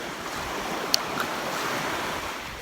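Ocean waves wash steadily onto a beach in a continuous broad roar with some wind, and one faint click is heard partway through.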